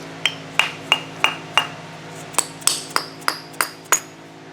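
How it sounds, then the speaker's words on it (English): A steel pull stud is driven out with a punch and hammer, about a dozen sharp metallic ringing strikes at an even pace, close and clear with no talk. "Got my hand ready to catch the stud as it exits out."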